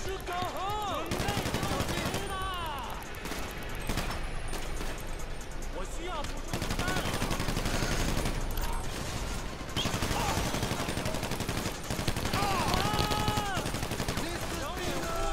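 Rapid video-game gunfire with bursts of shots and explosions, loud and continuous through the clip, mixed with game music and effects under a player's voices.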